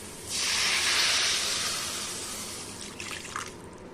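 Water poured into a pan of frying mutton fat and masala gives a loud, bright hiss of steam that gradually fades to a gentle bubbling simmer, with a few small pops.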